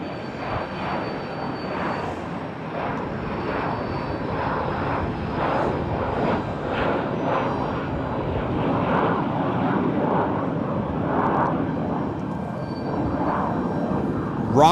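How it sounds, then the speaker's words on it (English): A Falcon business jet roars through its takeoff run and climb on a north departure from San Jose Airport, a loud sustained engine rumble with wind buffeting the microphone, steady and close throughout. "look at how fast that Falcon got up"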